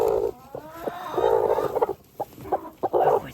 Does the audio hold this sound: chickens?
yes